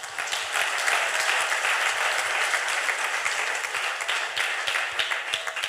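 Dense, steady applause fills a church as a congregation claps in praise of the Lord, continuous and loud from start to finish.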